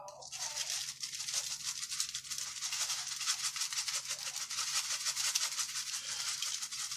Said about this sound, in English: Sometimes it's harder for these bigger flakes to come out of these little holes.